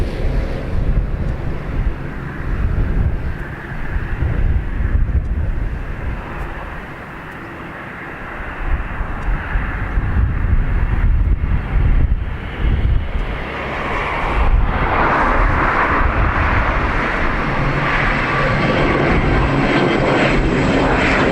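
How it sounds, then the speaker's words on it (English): An ATR turboprop airliner takes off at Dublin Airport in a gusty crosswind, its engine roar loud and sustained, rising and falling with heavy wind buffeting on the microphone throughout. "crosswind is really pushing the ATRs after they rotate and clear the tree line."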